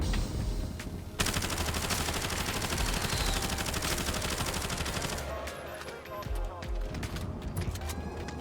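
Bullfrog SMG fire in Call of Duty Warzone, a loud sustained automatic burst lasting several seconds, then a few shorter trailing shots.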